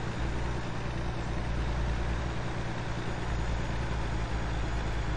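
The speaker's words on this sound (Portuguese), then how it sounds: "O barulho do motor já mudou." A heavy truck engine in the video game American Truck Simulator drones steadily and loudly as it pulls uphill, a constant low rumble with no breaks and no talk over it.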